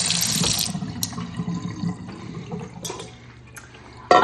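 Tap water pours into a kitchen sink while rice is being rinsed, loud and splashy at first, then settling into a softer, steady trickle with a few small clinks and a sharp knock at the end.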